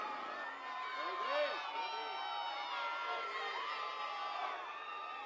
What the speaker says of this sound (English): I think someone waved a wand around here because this crowd is loud.